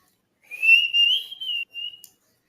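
A person whistles a short, high tune in a few connected phrases, close and clear against silence.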